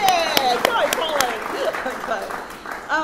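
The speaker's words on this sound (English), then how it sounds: "Yeah, big clap for Colleen." An audience at a political campaign launch claps for a party volunteer, a scattered round of applause running under a speaker's amplified voice and a few calls from the crowd.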